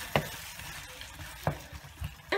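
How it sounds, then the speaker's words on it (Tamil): Onion and tomato sautéing in a pan for tomato chutney, a low sizzle with three or four distinct spatula scrapes and taps, close and quiet, no speech. "தக்காளி நல்லா வதங்கிட்டுருக்கு"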